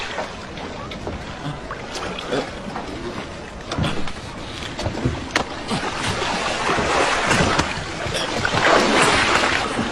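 Water sloshing and lapping around a small boat, with wind and scattered knocks of the hull, steady and close throughout.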